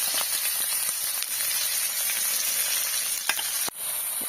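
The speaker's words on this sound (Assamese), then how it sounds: "আৰু সেয়া কেৰাহী পাতি দিলোঁ আৰু তেল দি দিলোঁ, আৰু এতিয়া পিঁয়াজখিনি ভাজি লওঁ।" Onions frying in oil in a kadai wok, a close, steady sizzle and crackle with occasional sharp pops and a brief stirring clunk, no talk.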